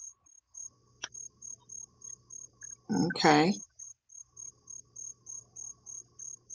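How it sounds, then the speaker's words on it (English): Crickets chirping outdoors on a summer night, a steady pulsed trill repeating evenly throughout, briefly covered by a short burst of a person talking near the middle. "You outside with the crickets?"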